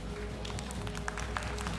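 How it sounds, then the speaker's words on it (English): An audience applauds at a World of Tanks esports showmatch, a brief, soft patter of scattered clapping heard under a quiet murmur of voices. "A round of applause again"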